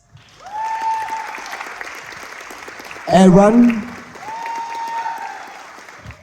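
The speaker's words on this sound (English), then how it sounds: "can we please have a round of applause for Neris," Applause for contestants at a televised talent search, a crowd clapping throughout under a host's voice, with a loud burst of cheering in the middle.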